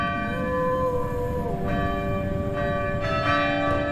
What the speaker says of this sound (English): this is one of the bells